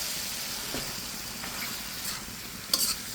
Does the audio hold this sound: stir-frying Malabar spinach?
yes